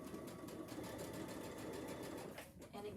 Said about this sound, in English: we're just going to sew that together